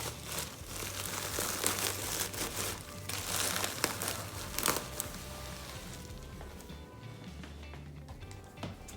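Dry Spanish moss being crumpled and pulled apart by hand for Dollar Tree Easter decorations, a soft, steady crinkling close up with no talk.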